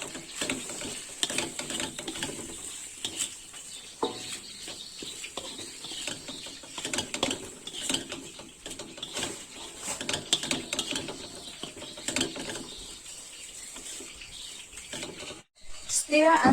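Fried rice with mustard greens being stirred in a pan, giving continuous scraping and clattering with faint sizzling, steady throughout and close by.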